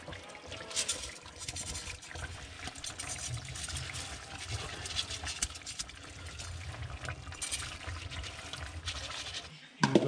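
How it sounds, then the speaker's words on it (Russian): Water poured into a pot of rice for plov, cooked outdoors on a winter evening, a faint continuous trickling and splashing stream that runs for about ten seconds, fairly close, with no talking. "Добавим воды"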